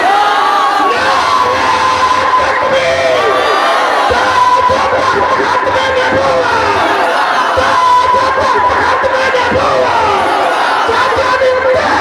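A large crowd roars a slogan in unison at a religious gathering, loud and sustained shouting that fills the whole stretch.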